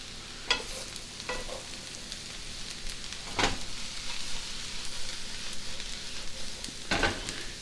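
Mushrooms frying in a pan with a soft steady sizzle, broken by a few sharp scrapes and clacks as they are stirred, close and moderately quiet.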